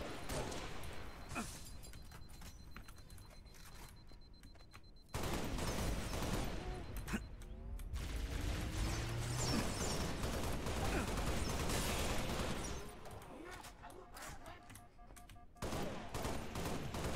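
Assault rifle fire in Halo: Reach comes in rapid bursts of sharp, loud automatic shots, broken by short pauses, with explosions and game effects among them.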